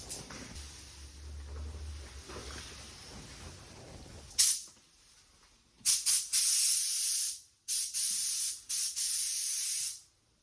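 An aerosol spray can hisses in a series of bursts, short and long, after a quieter stretch of low rumbling, while spray painting a Ford Sierra Cosworth boot lid indoors.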